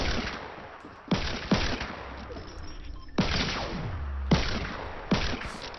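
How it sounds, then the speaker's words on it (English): Sniper rifle gunfire in Fortnite Battle Royale: about five sharp, loud cracks at irregular intervals, each with a fading tail over quiet game ambience. "We're getting sniped at from other teams."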